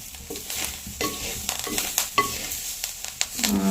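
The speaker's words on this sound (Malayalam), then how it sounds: "നമുക്ക് ഇളക്കൊക്കെ ഒന്ന് തുടങ്ങാം." Small pieces with coconut being stirred in a frying pan, repeated scraping strokes of a spoon against the metal in an uneven rhythm over a soft sizzle, close and moderately loud.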